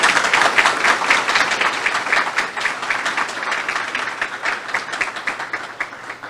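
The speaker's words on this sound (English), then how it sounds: "if we could just give our educators one more round of applause" Warm, sustained crowd applause fills a banquet hall honoring educators at the 2021 LEEF STAR Banquet, a dense wash of many hands clapping that stays loud for several seconds and eases slightly toward the end.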